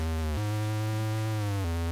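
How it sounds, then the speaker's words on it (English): Porsche 959 engine in a Commodore 64 racing game, a buzzy synthetic chip-sound drone that holds a steady pitch and jumps between gears, continuous and fairly loud with no talking. "I don't think a real Porsche 959 sounds like this."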